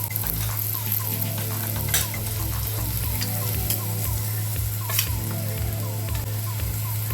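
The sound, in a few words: sautéing raw masala in oil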